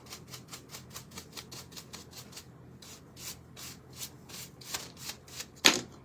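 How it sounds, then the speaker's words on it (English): A small Gator sander rubs back and forth over the edges of a foam insert for a DIY jewelry box, making rapid, regular scratchy strokes close by that grow slightly louder toward the end, with no talking. "you take your little gator sander,"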